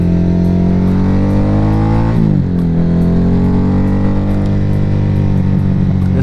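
A loud Harley-Davidson Nightster motorcycle engine drones steadily, its pitch dipping and climbing again midway as the rider eases off and accelerates, with no talking.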